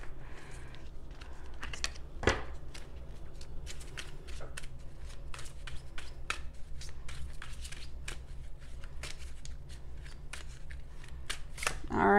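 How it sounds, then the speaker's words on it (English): Oracle cards from a Rebel deck spilling and being handled, a run of soft, quick papery flicks and slaps close by over a low steady hum, with one louder thump early on. "Oh my gosh, cards are going everywhere."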